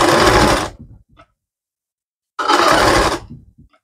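A sewing machine stitches pleats on a green saree in two short loud whirring bursts, each about a second long, separated by a quiet pause.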